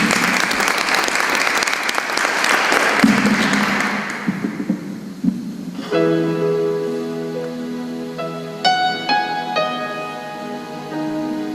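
A live audience applauds actress Liliana Palermo at a staged oratorio performance, dense clapping for about six seconds, then sustained musical tones begin as the applause fades.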